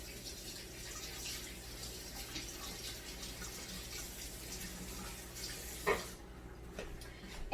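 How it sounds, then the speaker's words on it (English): A kitchen tap runs steadily while hands are rinsed during Super Bowl meal cooking, giving a constant soft gush of water with a brief splash near the end. "Wash this off my hands real quick."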